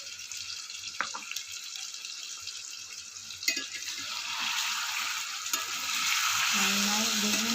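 Chicken pieces with coconut and curry leaves sizzle steadily in a pan while being stirred, with scraping spoon clicks and a broad frying hiss that grows slightly louder toward the end.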